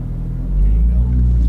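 A Porsche GT3 RS 991 creeps forward in first gear with the wheel turned hard right at a racing track, giving a deep, steady low engine rumble up close that swells slightly partway through.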